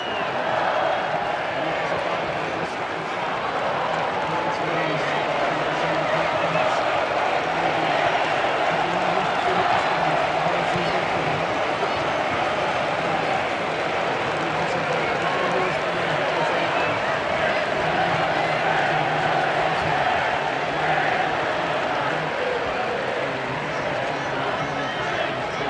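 Sunderland and Newcastle football fans fill a derby stadium with a steady, dense crowd roar that holds for the whole stretch, a broad wall of massed voices with no single chant standing out clearly.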